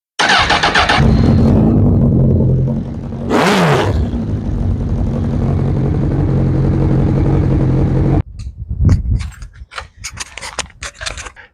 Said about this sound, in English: Let's do a cold start quickly.